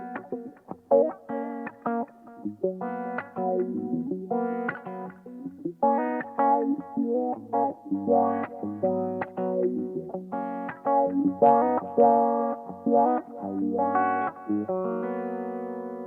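Electric guitar through a wah effect on a Line 6 Helix preset, playing distorted chord stabs and riffs with a sweeping, vocal-like filtered tone, close and steady with no talking.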